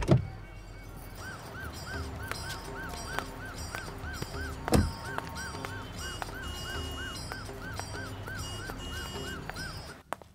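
A car sits in a blocked traffic jam while horns honk repeatedly from several vehicles around it, short nasal blasts recurring steadily over a constant low engine and road rumble, with a louder thump midway.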